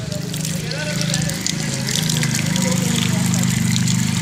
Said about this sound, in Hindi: टंडन भाई साहब तेज आ गई बारिश